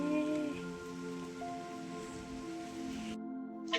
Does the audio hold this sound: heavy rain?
yes